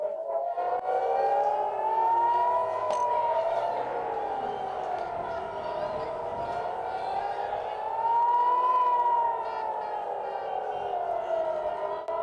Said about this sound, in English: The sirens are sounding in Jerusalem, Reim, near the Gaza Strip.